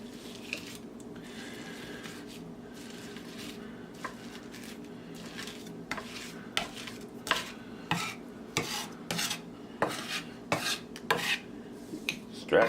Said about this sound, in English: Run your knife through it. Just pull back through.